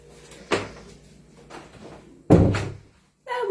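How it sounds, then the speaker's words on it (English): A door is pushed shut indoors with one solid, close thud, after an earlier softer knock and a low room hum. "Now we'll just shut the door"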